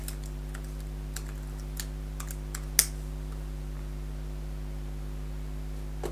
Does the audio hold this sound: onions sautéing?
no